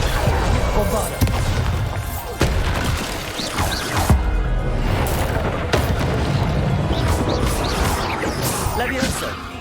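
Repeated explosive Bombarda spell blasts in Hogwarts Legacy land as sharp booms and crashes amid combat noise, while a voice shouts over them.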